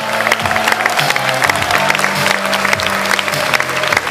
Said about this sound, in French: Je vous mets ma vidéo de leur entrée sous les applaudissements de tout le public